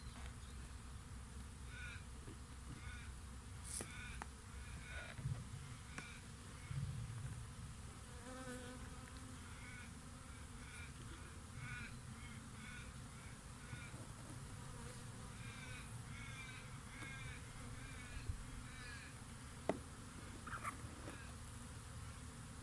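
Dense buzzing of many honey bees fills the air continuously during installation of a nucleus colony into an 8-frame hive, a steady swarming drone with occasional closer individual buzzes passing by.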